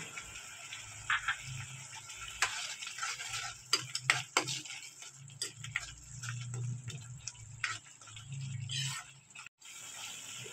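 Tomato sauce for gobi manchurian bubbles softly in a pan while a utensil repeatedly taps and scrapes against the metal during stirring.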